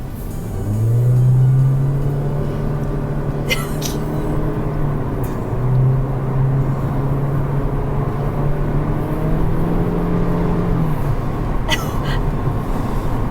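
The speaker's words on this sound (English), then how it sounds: "I've just put the car into sport mode, so let's see what it does." A Lexus IS300h hybrid car driving in sport mode, a loud sustained engine drone rising and falling in pitch through two revving pulls, heard from inside the cabin with a few brief clicks.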